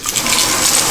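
Tap water splashing briefly over scallions being washed in a kitchen, a short, bright, close rush of running water.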